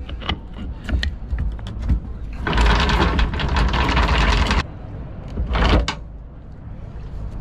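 An electric anchor windlass on a sailboat grinds loudly for about two seconds, then a shorter mechanical burst follows amid intermittent clunks and handling noises nearby.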